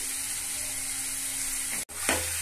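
Onions and spices sizzle steadily in a pan for chicken biryani, a constant close frying hiss that cuts out briefly near the end before a stir brings a fresh burst of sizzle.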